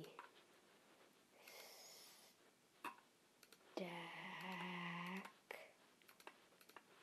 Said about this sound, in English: Harder to type with the mouse cursor